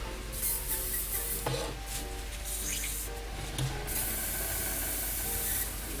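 Airbrush spraying paint onto a Zvezda T-34/76 scale model tank, a soft continuous hiss with brief gaps and small variations as the trigger is worked.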